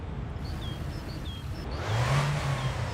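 A car engine cold start in the game My Winter Car: a whirring crank gives way to an engine catching and revving up near the end, with faint chirping tones over it.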